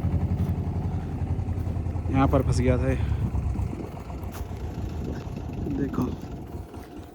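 A tractor engine idles and pulls a trolley loaded with wheat out of a stuck spot, a close, continuous low rumble heard under someone talking.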